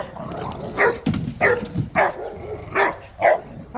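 Dogs bark and yip in repeated short bursts nearby, about six sharp barks spaced unevenly over a few seconds, with whimpery tones between them.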